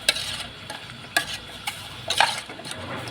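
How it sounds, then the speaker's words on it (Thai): Field rat stir-fry for an Isan dish sizzles in a pan while being stirred, with repeated scraping strokes and utensil clatter over a continuous frying hiss, close and fairly loud. "เสร็จแล้วคนคนคนครับ คนคนแล้วมันจะหอมครับ"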